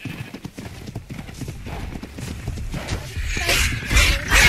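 Tamed horse in the video game Ark: The Lost Island, with steady hoof clip-clop and a brief whinny rising toward the end, fairly close and moderately loud over game ambience.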